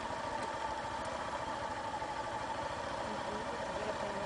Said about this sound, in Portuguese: Desliga a moto.